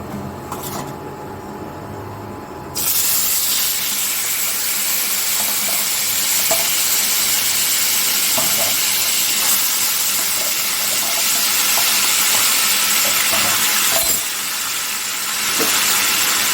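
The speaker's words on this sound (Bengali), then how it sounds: "তো কচুর শাকটাকে এখন আমি তেলের মধ্যে দিয়ে দিচ্ছি" Drained taro leaves hit hot oil and burst into a loud, dense, close sizzle that holds steady and hissing for over ten seconds, dipping briefly before surging again, with faint spatula taps underneath.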